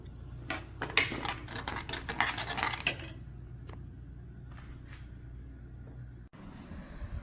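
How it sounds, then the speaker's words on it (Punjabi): Cucumber and onion are cut at home, a quick run of close knife taps and chops for about three seconds that then gives way to quiet room hum with a few faint clicks. "ਮੈਂ ਖੀਰਾ ਤੇ ਪਿਆਜ਼ ਕੱਟ ਲੈਣੀ ਆ"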